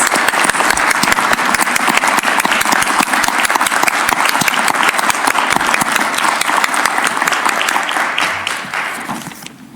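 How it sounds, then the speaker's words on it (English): A large school board meeting audience applauds loudly and continuously for several seconds, the clapping tapering off at the end. "please join me in giving our board and especially our helpers a big round of applause"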